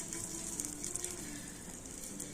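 Melted butter brushed into a hot frying pan sizzles in a steady, close hiss with faint crackles throughout, no voices.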